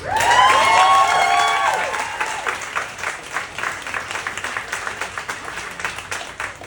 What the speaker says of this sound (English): I wish you wouldn't clap so hard